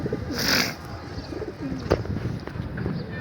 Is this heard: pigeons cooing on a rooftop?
yes